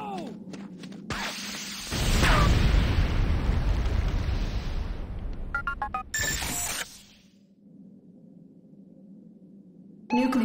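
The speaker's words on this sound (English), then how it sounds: "C4 is set. Fire in the hole!" A loud C4 charge blast in the Command & Conquer Renegade game, a booming burst with a long rumbling roar lasting several seconds, followed by sharper clanks and a lower mechanical hum.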